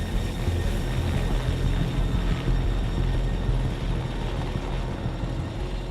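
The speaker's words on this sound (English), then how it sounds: "the helicopter sets off on the 20-minute climb to the jump" A helicopter carrying wingsuit jumpers climbs steadily, its rotor and turbine making a loud, constant drone with no voices.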